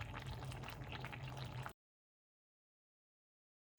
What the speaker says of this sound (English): Here's the bigos bubbling away.